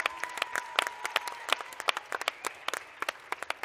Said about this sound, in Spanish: Un aplauso también para todo el grupo de mujeres